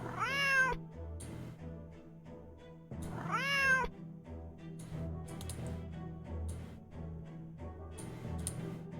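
A cat meows twice in the Nancy Drew: The Deadly Device video game, two clear drawn-out calls a few seconds apart over steady background game music.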